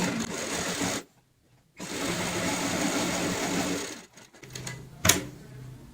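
An electric sewing machine stitches handbag lining with a half-inch seam, a close steady whirring run, a short pause, another sustained burst, then stop-start bursts with a sharp click near the end.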